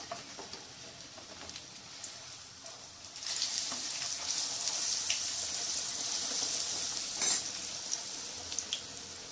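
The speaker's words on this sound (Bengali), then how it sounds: "একটা একটা করেই ভাজছি" Pumpkin leaves dipped in gram flour batter sizzle in hot oil, a soft crackle that swells into a steady, bright hiss as more fritters go in, close up with no talking.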